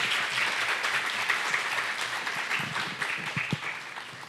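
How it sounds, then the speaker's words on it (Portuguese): An audience gives a round of applause for guests invited onto a stage, sustained mixed clapping at a steady level throughout, slightly thinning toward the end. "Uma salva de palmas aqui para os nossos convidados."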